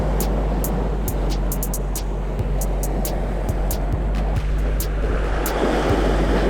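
Ocean waves break on a rocky island shore, a dense, steady roar of surf with a low rumble beneath, loud and continuous throughout, with faint repeated clicks overhead.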